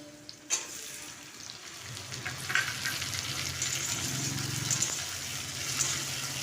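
Tomato going into a pan of frying onion, with a steady sizzle and crackle that swells after a soft clatter near the start, alone and fairly close.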